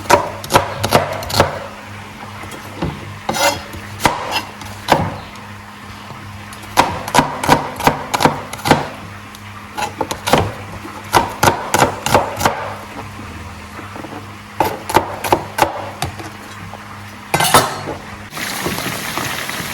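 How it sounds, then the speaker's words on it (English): A knife shreds onions on a board for tilapia sauce, sharp close knocks arriving in quick rhythmic bursts with short pauses between, loud and clear with no voices. "We shred some onions for the sauce."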